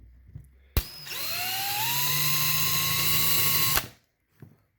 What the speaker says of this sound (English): at the risk of drilling through my brand new cover